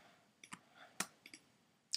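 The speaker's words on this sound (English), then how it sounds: "So you notice I'm clicking on the artwork to select it." Computer mouse clicks while selecting artwork in Adobe Illustrator: about five or six sharp, close, isolated clicks at irregular intervals over a quiet background, some in quick pairs.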